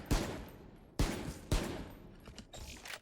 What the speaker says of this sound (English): Then the rifles. We're gonna start with the Bulldog.